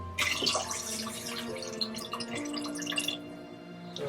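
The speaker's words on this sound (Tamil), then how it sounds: "1/2 கப் தண்ணி தான் ஊற்ற போறேன்" Half a cup of water splashes and trickles into a pot, a bright continuous pour with dripping sounds, heard fairly quietly over a faint background hum.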